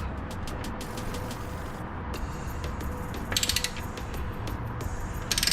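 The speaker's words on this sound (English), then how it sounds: "We're gonna use that and a socket wrench so we can loosen it up." A socket wrench ratchets steadily while loosening an oil filter during an oil filter cooler sandwich adapter install, the quick pawl clicks close and fairly loud over a constant mechanical hum, alone without speech.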